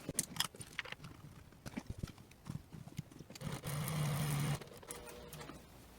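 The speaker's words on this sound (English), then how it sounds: "now you're going to stitch this in place, just the outer edge, not the inside edge" A sewing machine stitches along the outer edge of bag fabric with an eighth-inch seam allowance, running in short clicking bursts and then in one steadier, louder whirring run before slowing down.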